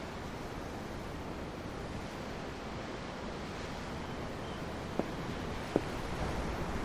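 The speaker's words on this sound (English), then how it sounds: "The waves. They help me think." Ocean waves in Tales of Arise, heard from aboard a ship, roll as a steady, soft, broadband wash of surf and wind with no talk, broken only by two faint clicks near the end.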